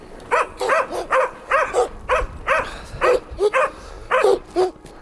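Hunting laika dogs at a kennel barking in quick, repeated bursts, several sharp barks and yips close by in an uneven rhythm, loud and clear with no talk.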